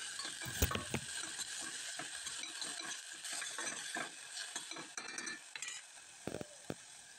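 Potato and chopped spinach are tossed in a pan for baby khichdi, with a soft sizzle under steady scraping and clinking of a spoon against the pan, close and continuous, no talking.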